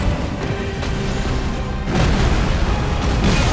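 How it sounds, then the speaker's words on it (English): A big explosion in the video game Elden Ring, a loud dense blast that swells sharply about halfway through and keeps roaring with broadband rumble to the end, with no talk over it. "Big explosion!"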